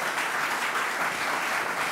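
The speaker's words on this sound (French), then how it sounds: "Sous vos applaudissements." Audience at a motivation talk claps in a brief, dense, steady burst of applause, full and fairly close, lasting about two seconds.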